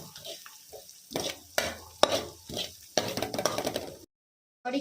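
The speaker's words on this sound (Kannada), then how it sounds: "ಸ್ವಲ್ಪ ಖಾರದ ಪುಡಿ ಫ್ರೈ ಮಾಡ್ಕೊಳ್ಬೇಕು ಚೆನ್ನಾಗಿ" Cumin, pepper and chili powders fry in a pan, heard as bursts of spatula scraping and stirring over a light sizzle, broken by a brief silent gap before the end.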